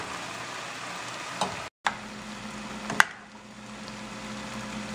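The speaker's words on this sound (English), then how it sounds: "So now I'm gonna saute some chicken." Chicken sautéing in a pan with sauce, a steady close frying sizzle with a couple of sharp knocks from a utensil as it is stirred, and a brief dropout partway through.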